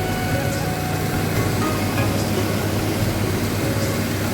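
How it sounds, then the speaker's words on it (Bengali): A train passes at night, heard as a loud, unbroken rumble and roar that holds steady throughout with no voices over it. "কেমন লাগছে ট্রেনটা এখান থেকে"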